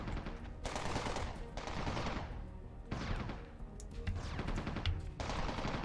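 Laser rifle fire in the online game Entropia Universe during a group hunt: repeated rapid bursts of electronic shots in a steady rhythm, loud and continuous over several seconds.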